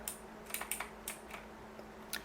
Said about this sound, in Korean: 키보드의 X키를 눌러서 이 안내판을 보도록 하겠습니다